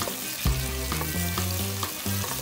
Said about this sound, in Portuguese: vamos adicionar um fio generoso de azeite, 1/4 de cebola, 1 dente de alho e vamos dar uma leve refogada